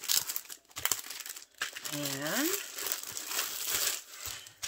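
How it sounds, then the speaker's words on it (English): A plastic bag holding a Diamond Art Club canvas crinkles steadily and close up throughout, with a brief spoken word near the start. "Canvas comes in a plastic bag with Diamond Art Club on the bag."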